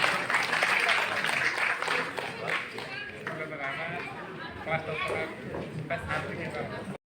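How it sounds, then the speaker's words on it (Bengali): Audience applause at a regional film awards ceremony, with a sustained dense clapping wash from a crowd that holds for several seconds and then cuts off abruptly. "একটু উষ্ণ করতালি হোক সকলের একসাথে।"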